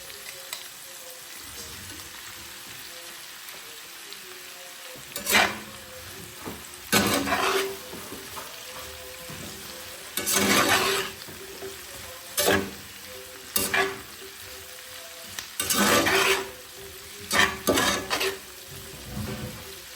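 Chicken strips fry with capsicum and onion in a pan, a steady background sizzle punctuated by bursts of vigorous stirring and spatula scraping every couple of seconds, close up and without talk.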